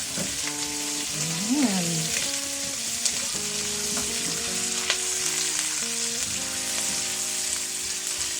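Garlic and onion fry in a pan for coconut-milk milkfish, a loud, dense sizzle throughout with light stirring and a brief spoken word near the start.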